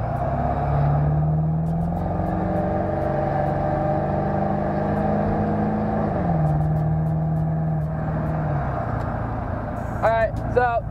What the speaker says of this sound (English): I just wanted to know if you guys could hear the turbo. So I'm about to do a quick pull right here.